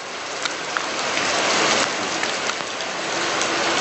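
Steady natural rain pours down in a dense, loud hiss of drops striking surfaces, continuous throughout with no talking.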